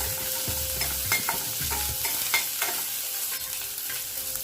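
Shallots, cumin and curry leaves being stirred and sautéed in a pan, a steady soft sizzle broken up by scraping stirs and small clinks close by, with no talking.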